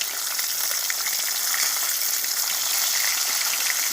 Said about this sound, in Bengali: মাছগুলোকে উল্টাতে হবে।